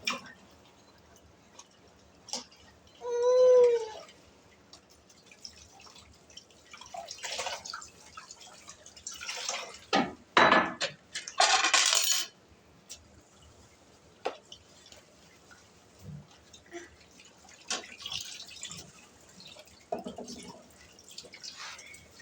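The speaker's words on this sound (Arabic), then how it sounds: "أنا بحب لما تكون عندي أطباق كده بغسلها كلها وبعدين أرجع أشطفها كلها مرة واحدة" Dishes being washed and rinsed under running water at a kitchen sink, with scattered drips, clinks and splashes, brief bursts of flowing water and a louder gush near the middle, no talking.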